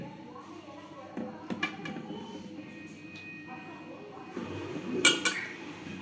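Freshwater river fish being set into a pot of oil in a home kitchen, heard as scattered clinks and knocks of metal cookware over a low background hum, with a sharper clatter near the end.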